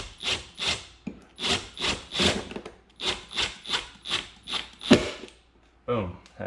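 A screw being driven into wood through a bracket for cordless window blinds, heard as a series of about a dozen rhythmic rasping, creaking turns, fairly close and with no talking.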